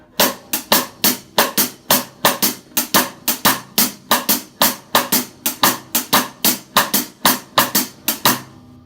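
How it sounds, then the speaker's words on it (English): Cross-stick clave in a rumba pattern layered over a steady cascara ride, played on a drum kit in an Afro-Caribbean fusion groove; a continuous run of crisp, evenly spaced clicks, close and alone for about nine seconds. "I'll play the clave now on the cross stick."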